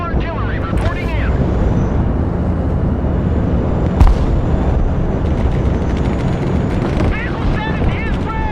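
Loud, continuous battlefield noise from the video game Broken Arrow, with rumbling artillery fire and a sharp blast near the middle, layered with engine and explosion sounds throughout.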